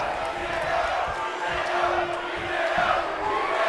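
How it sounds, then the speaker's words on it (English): A packed arena crowd at a New Japan Pro Wrestling event cheers and roars in a steady, loud, continuous wash of voices, with a commentator faintly audible underneath. "Look at this crowd. They are loving it."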